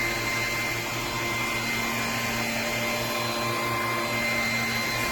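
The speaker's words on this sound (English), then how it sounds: "we'll see what this looks like when I turn the vacuum on and the light comes on" A Bissell PowerClean 200W self-standing cordless vacuum with a tangle-free brush runs steadily, a loud, continuous whirring hum with a constant motor whine and no pauses.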